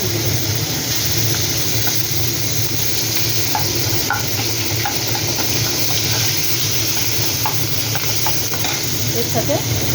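Onion frying in oil in a pan with fish and nigella seeds, with potatoes to be added, gives a steady close sizzle with occasional stirring scrapes and small pops throughout.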